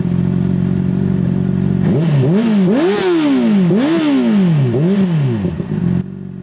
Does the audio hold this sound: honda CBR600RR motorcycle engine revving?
yes